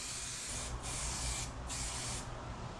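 Spray primer hisses in a steady, close, continuous jet onto a boat cowling, broken by two short pauses between passes.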